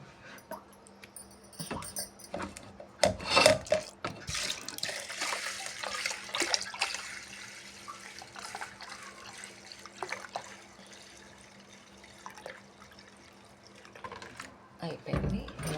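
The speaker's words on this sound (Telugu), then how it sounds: "సో ఆ వాటర్ని దీంట్లోకి వంపుకుంటాను" Clean tap water is poured from one vessel into another container in a home kitchen, a soft, intermittent splashing and trickling with clatter of handling and a dog audible nearby.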